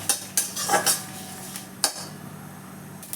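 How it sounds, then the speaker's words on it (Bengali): Cumin seeds dry-roasting in a pan, heard as a few sharp metallic clinks and scrapes of a utensil against the pan, clustered early and one near the two-second mark, then a quiet low hum. "খানিকটা জিরে দিলাম, দিয়ে ভালো করে এটাকে ভেজে নেব।"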